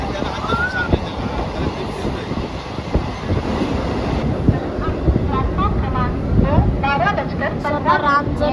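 Uran local train pulling away and gathering speed, a continuous loud rolling rumble with scattered rattles and metallic squeals, and voices rising near the end.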